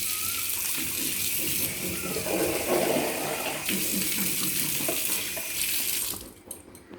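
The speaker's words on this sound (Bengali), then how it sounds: "পাটাটাকে ধুয়ে দিই।" Running tap water splashes steadily over a stone grinding slab as it is washed, a broad close gush that continues for several seconds before cutting off abruptly near the end.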